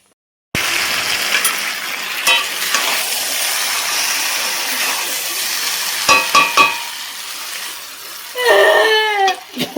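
A child cries out in short bursts over a steady loud sizzle of food frying and stirring on a home stove, with wailing rising near the end.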